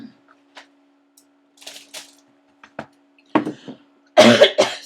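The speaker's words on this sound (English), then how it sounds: "Sorry, been talking for too long, I had to clear my throat." A person clears their throat indoors with a few short, rough, loud bursts near the end, following scattered soft taps and shuffling sounds in an otherwise quiet room.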